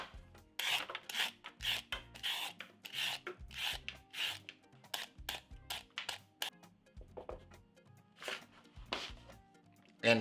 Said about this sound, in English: Peel the carrots.